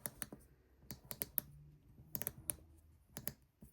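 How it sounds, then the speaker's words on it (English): A stainless steel ratchet ring clicks as it is turned, producing sharp, close, irregular clicks in small bursts with short pauses between them, and no talking. "When you turn it, it makes a click noise."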